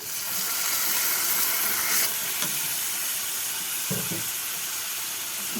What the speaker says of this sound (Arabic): انا دلوقتي البصله بتاعتي اتحمرت، هضيف لها الطماطم